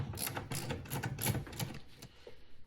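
A ratchet clicks in quick short bursts while tightening a bolt on a Dodge Grand Caravan or VW Routan front door latch, close and fairly quiet, with brief pauses between strokes.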